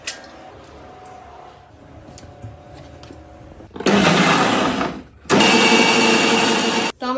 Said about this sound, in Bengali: সব মশলা আর টমেটো একসঙ্গে মিক্সিতে বেটে নেব।